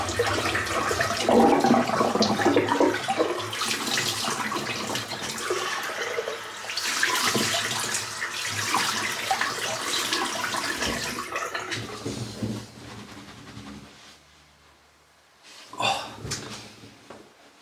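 Tap water running and splashing while rinsing after a head shave, a loud continuous gush that fades and stops near the end, followed by a brief final splash, close by.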